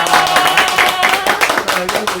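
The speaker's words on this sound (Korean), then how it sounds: "박수!" Audience clapping at the start of an online church youth retreat, a short burst of dense, fairly loud applause running throughout with some voices mixed in.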